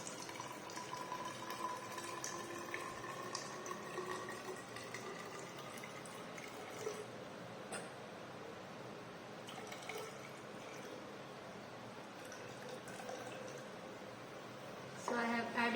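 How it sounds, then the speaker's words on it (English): Water, about 200 ml, trickles and splashes softly and steadily onto a soil sample for several seconds, with small drips and a louder pour near the end. "I am going to add 200 ml of water here."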